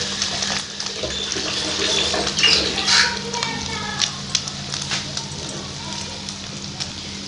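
Potato fingers fry in hot oil over a medium-to-low flame, giving a steady sizzling hiss with scattered crackles and pops, while someone speaks over it.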